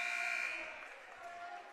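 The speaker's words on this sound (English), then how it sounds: "Tessa to Anissa, a long one, air ball at the buzzer." Buzzer marking the end of a quarter at a high school girls' varsity basketball game, a faint steady tone lasting about half a second, then fading into gym crowd noise.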